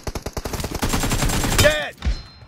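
Automatic rifle fire in the battle royale game PUBG rattles off as rapid regular bursts of close, loud shots, building into a dense volley before a sharp crack and ringing tail cut it off.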